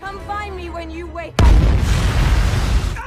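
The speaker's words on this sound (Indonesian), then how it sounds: "ledakan pun terjadi" A sudden loud boom from the film Edge of Tomorrow bursts in after a moment of tonal voices and music, followed by a rumbling, crackling roar that lingers.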